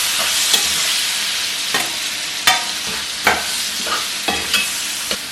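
Eggplant frying in a hot pan with a constant hiss of oil, broken by a string of sharp clicks and scrapes as it is stirred every second or so.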